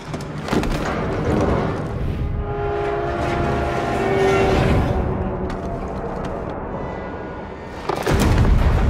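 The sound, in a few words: train car rolling on rails, from CrossfireX video game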